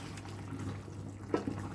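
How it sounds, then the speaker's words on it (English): Water poured into a pan to thicken gravy for Caribbean-style fried kingfish, a faint liquid trickle and splash with a couple of small drips near the end over a low steady hum. "add some water in there"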